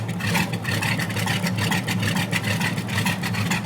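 A 1932 Ford Roadster engine runs at a steady idle close by, a loud continuous rumble with a rhythmic low pulse and no talking over it.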